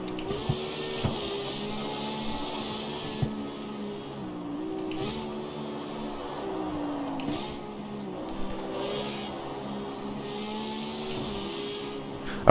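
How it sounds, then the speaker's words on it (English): A Lamborghini engine in a racing video game drones steadily with shifting revs over about twelve seconds, a thin, buzzy synthetic tone at moderate level with small repeated pitch changes. "the sound of the Lamborghinis are not very good in here"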